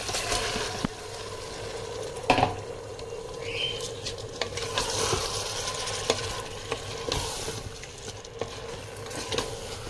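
Rice being stirred in a cooker pot, giving a low continuous sizzle with occasional scraping knocks from the spoon, close and moderately loud, with no voices.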